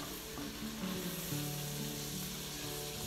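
Sausage and flour cooking in a pan for gravy, a steady close sizzle with faint scraping of stirring and a low musical tone running underneath.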